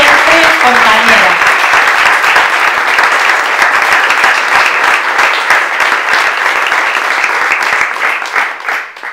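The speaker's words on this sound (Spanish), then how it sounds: "quiero pedir un fuerte aplauso para Sandra Cabrera" Loud, sustained applause for Sandra Cabrera at a gathering in Neuquén honoring sex workers, a dense crowd clapping that fades slightly at the end, with voices mixed in early on.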